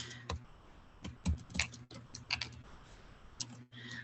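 Quiet typing on a computer keyboard, scattered soft key clicks in short irregular bursts with small pauses, close and faint over a low hum.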